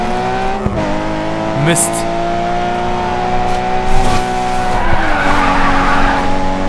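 Damaged race car in Grid 2 skids and scrubs its tyres over a steady engine drone, with a short squeal and scraping bursts, while someone briefly talks over it.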